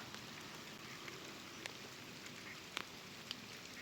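Rain falls steadily outdoors during a fishing trip, a quiet continuous hiss with scattered faint drops tapping on surfaces.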